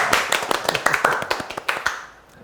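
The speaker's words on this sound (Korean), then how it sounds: "저희 패널 여러분도 오늘 박사님을 위해서 박수 한번 쳐주시죠" A small panel in a Korean lecture program on the Korean War claps briefly, about two seconds of close, sparse handclaps that fade out at the end.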